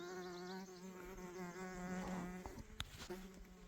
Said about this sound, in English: but they're just friendly little flies.